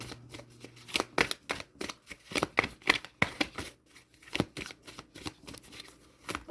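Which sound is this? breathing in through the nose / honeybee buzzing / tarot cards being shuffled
tarot cards being shuffled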